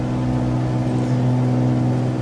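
Steady, loud drone of a Cirrus aircraft engine during climb on a flight from Hilton Head to Greenville, a continuous low hum with strong tonal bands and no voices.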